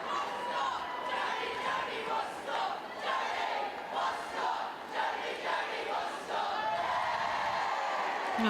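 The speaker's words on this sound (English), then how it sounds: "They're cheering." A stadium crowd at a women's football cup match between Arsenal and Reading roars and cheers continuously, a dense swelling wash of voices with rising shouts, heard at a distance.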